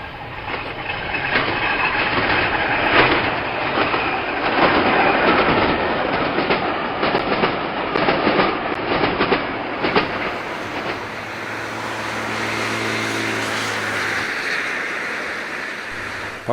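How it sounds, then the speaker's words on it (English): A train on the Hundred of Hoo Railway pulls out of Gravesend station with steady wheel clatter and rumble that fades to a lower, smoother roll partway through. The sound is continuous and fairly close. "Leaving Gravesend station, trains will pass under various bridges and walkways."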